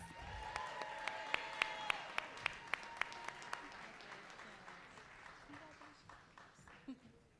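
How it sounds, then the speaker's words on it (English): An audience at a teacher award ceremony claps in a lively burst of applause with sharp, prominent hand claps. It thins out into scattered claps and fades toward the end. "can we give her another round of applause?"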